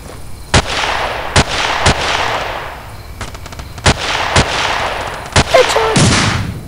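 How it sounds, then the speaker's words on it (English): Sniper rifle shots ring out in the video game Battlefield 2 Special Forces, about seven sharp loud cracks at irregular intervals, each trailing a long echoing decay, with some clicks in between. "Now we just sit up here on this building and snipe."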